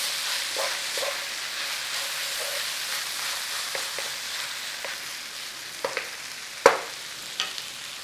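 Garlic and sausage fry in a single pan for fajitas, producing a soft, steady sizzle with scattered scrapes and taps from stirring, and a sharper clack toward the end; nobody speaks.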